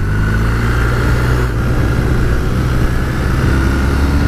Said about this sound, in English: let's just see what the bike's like on a faster road in terms of both that new 1250 shift cam engine and the weather protection